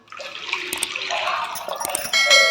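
Water pours steadily into a bowl of pani puri mixture with a rushing, splashing hiss that grows louder toward the end.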